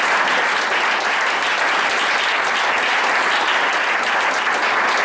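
A church congregation applauds during a pastor's sermon, a dense, even wash of many hands clapping together at steady loudness for the full length, sustained without pause and with no voices standing out.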